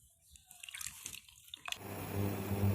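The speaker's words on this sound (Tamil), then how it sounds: "இப்போ புளியை கரைச்சிக்கலாம்." Soaked tamarind squeezed and dissolved in water by hand in a home kitchen for temple-style puliyodharai: soft drips and trickles at first, then a steady close splashing, sloshing wash of liquid that swells louder toward the end.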